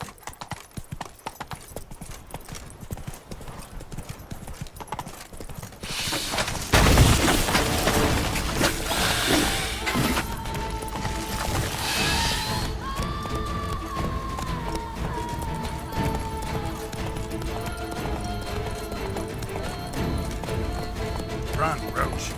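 Roach, a horse in The Witcher 3: Blood and Wine, gallops in a fast rhythmic clip-clop of hooves beneath game music and effects, with a loud impact as the run begins and a voice speaking.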